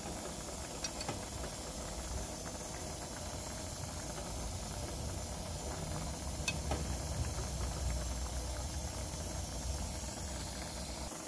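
A pressure cooker hisses steadily as peas cook under pressure for Jamaican rice and peas, a continuous close steam rush with low rumble beneath and a few faint clicks, no talking.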